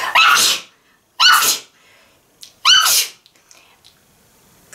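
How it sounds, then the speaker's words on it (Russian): Three loud, close sneezes, each a sharp explosive burst about a second apart, separated by near silence and soft breathing. "Все-таки чихну."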